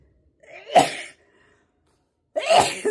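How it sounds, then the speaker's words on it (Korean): Two sneezes, close and loud, with a short quiet gap between them, each a sharp, breathy burst, in a setting among fragrant flowering plants such as kalanchoe blooms. "저 향기 때문에 재채기가 막 나네요"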